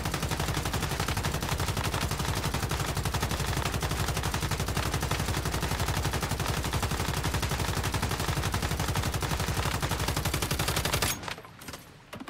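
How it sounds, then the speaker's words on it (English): A light machine gun loaded with copper ammo fires at a test dummy in the Once Human video game, a loud, unbroken rapid burst of shots for about eleven seconds before cutting off abruptly. "And we're just using copper LMG ammo. So let's take a look at this actually on the test dummy."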